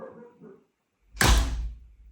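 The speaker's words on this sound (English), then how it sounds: "when we close the door, no more wobble" A French door swings shut with one solid, loud thunk and a short rattling decay, after a faint low murmur and a moment of quiet.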